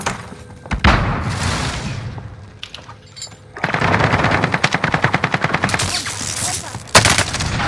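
Rapid automatic gunfire in Call of Duty: Modern Warfare, a quieter exchange at first, then sustained loud bursts of close machine-gun fire with a heavy shot near the end.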